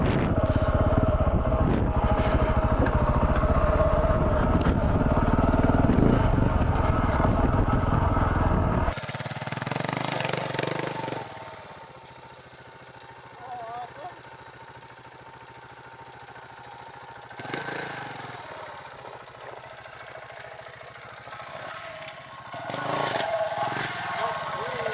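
A KTM 690 Enduro motorcycle rides a rocky mountain trail, its engine loud and rumbling with wind at first, then dropping to a quieter idle and low revving with brief surges.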